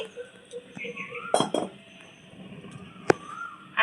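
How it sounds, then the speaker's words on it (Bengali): A metal kadai is set down on a stove, producing a couple of short clanking knocks and scrapes against a quiet background with faint voices. "কড়াইটা আমি বসিয়ে নিচ্ছি"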